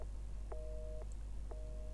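In the Resident Evil 7 game, a telephone dialing 110 gives three short, faint, evenly spaced tones, each beginning with a click, over a steady low electrical hum.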